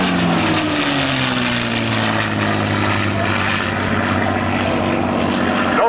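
A loud, continuous propeller airplane engine roars close by through an aerobatic loop flown at high speed, its pitch sliding downward as the aircraft arcs and drones on without pause.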